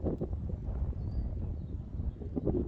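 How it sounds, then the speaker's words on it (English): Steady gusting wind buffets the microphone with a low rumbling roar that rises and falls throughout. "It's getting quite windy again and a bit freezing"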